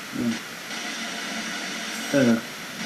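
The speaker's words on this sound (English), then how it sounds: "Sorry about the kettle, man. That's going to be the loudest kettle in Britain or France." A steady rushing hiss of an electric kettle boiling very hard water, continuous throughout, with brief muffled voice-like bursts near the start and end.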